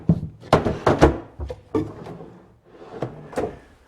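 A series of wooden clunks and knocks as a drawer is dropped back into a cabinet, several sharp thumps in quick succession.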